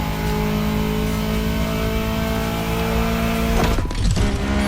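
A concept car engine in the video game The Crew Motorfest revs loudly and steadily with a droning mid-pitched roar, briefly surging near the end.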